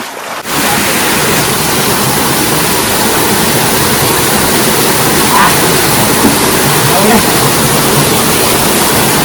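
A waterfall roars as a loud, dense, unbroken wash of rushing water close to the microphone, steady from start to finish after a brief quieter opening.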